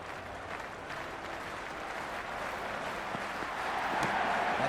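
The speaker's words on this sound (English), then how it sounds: "It's almost palpable, the excitement emanating from this crowd at the moment." The stadium crowd in the Cricket 26 video game at a Big Bash League match roars and claps steadily, a dense wash of applause and cheering that swells louder toward the end.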